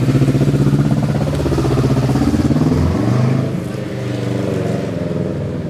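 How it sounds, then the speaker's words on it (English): A noisy motorcycle passes along a street nearby, its loud rough engine putting out a continuous buzzing, pulsing drone that stays strong throughout and dips slightly after the midpoint. "Noisy motorcycle."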